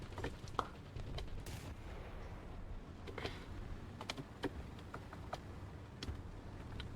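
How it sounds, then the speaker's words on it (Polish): Tank cannon fire in the War Thunder video game: a handful of short, sharp shots, faint and distant, spaced irregularly over a steady low engine rumble. "pierwsze strzały."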